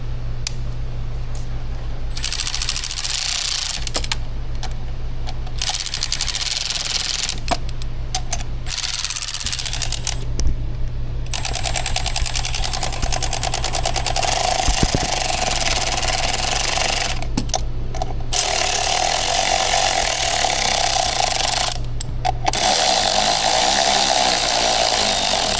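In a garage, a power tool runs bolts up on a Chevy Cruze 1.4 that is being fixed for an oil leak. The tool whirs in repeated bursts, starting and stopping over a steady low hum.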